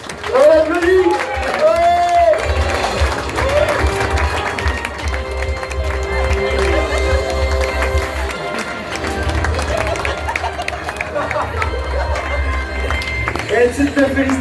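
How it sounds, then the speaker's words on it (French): A game-show studio audience applauds the winner, with sustained clapping and cheering at full volume, music swelling alongside and a host talking over it. "On l'applaudit."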